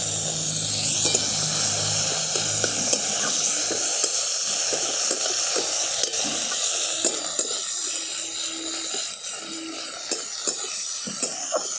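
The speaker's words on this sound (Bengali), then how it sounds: "দিয়ে দিচ্ছি টমেটো।" Chopped tomatoes hissing in hot oil tempered with black and white cumin, a steady close broadband sizzle with small crackles and spatters throughout, no talking.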